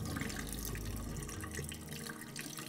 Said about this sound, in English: just running the water and running my fingers through it